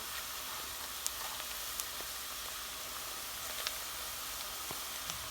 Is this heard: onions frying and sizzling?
yes